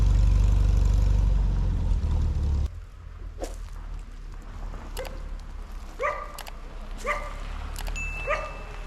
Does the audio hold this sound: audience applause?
no